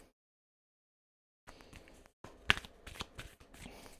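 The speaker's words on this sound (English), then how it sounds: "I've been shuffling this deck for like 30 seconds now" A deck of tarot cards being shuffled by hand, heard after a silent opening as soft papery riffling with a few sharper snaps and flutters, close and fairly quiet, with no talking.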